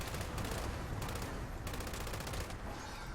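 A vampire's explosive light machine gun in Fallout 76 fires in long sustained bursts, a loud rapid rattle of shots with explosive impacts, broken by brief gaps.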